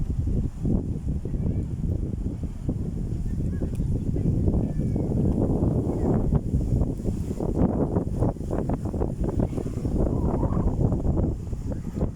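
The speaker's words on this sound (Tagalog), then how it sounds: "Naririnig nyo yung mga ingay ng hangin, mga kaluskos at galaw ng mga dahon" Strong wind roars steadily at the seaside of Manila Bay, a constant loud rushing buffet with microphone wind noise, broken by rustling leaves and faint background activity throughout.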